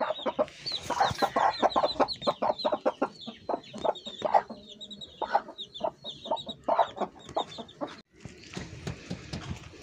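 Chickens with chicks on a farm, a busy run of close, rapid clucks and chirps in uneven bursts, with no talk over them.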